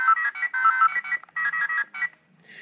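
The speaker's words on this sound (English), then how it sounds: "These buttons cycle through random sounds." A Boukenger Accellulor toy communicator plays a string of loud electronic beeping and warbling sound effects in rapid bursts with short gaps, fading to a quieter tone at the end.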